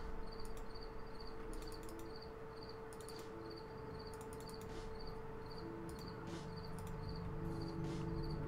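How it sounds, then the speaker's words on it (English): Several crickets living close together in an indoor space chirp in steady repeating pulses, a continuous close insect trill with a faint hum underneath and no talking. "A couple of crickets have started living in it."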